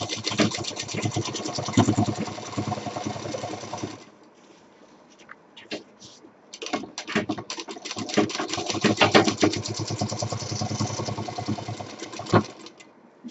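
A sewing machine stitches along the very edge of a cloth bag's border in two bursts. A steady mechanical chatter runs for about four seconds, pauses through a quieter stretch with a few light clicks, then picks up again close and clear.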